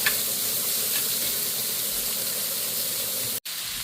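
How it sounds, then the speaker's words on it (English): A small onion sizzles in a pan next to sausage, giving a steady, even frying hiss throughout with a brief dropout just before the end and no voices. "We're just going to kind of keep it separate so it'll kind of cook them onions a little bit"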